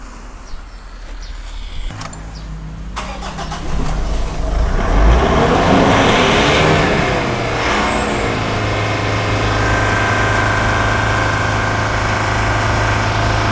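A diesel engine revs up loudly after some clicking, holding a high roar at about 2,500 to 3,000 rpm for several seconds before settling into a steady drone, during exhaust pipe cleaning.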